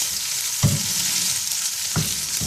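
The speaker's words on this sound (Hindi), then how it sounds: "अब इसको आराम से, तेल गरम होगा, चमचे की मदद से आराम से आप इसको तेल में उतारें" A Peshawari chapli kabab goes into hot oil, giving a steady bright frying hiss with two soft thuds of a spoon setting it down, close and fairly loud, with no voices.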